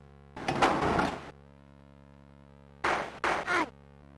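Bursts of shrill, buzzy video game effects from a Covox Speech Thing clone playing 7 kHz samples at 11 kHz, one long and then two short blasts, over a constant low electrical hum.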